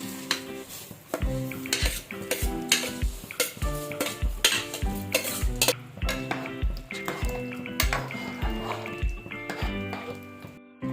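Soya chunk biryani rice being stirred in a pressure cooker, repeated close clanks and scrapes of a metal spoon against the pot over a soft sizzle.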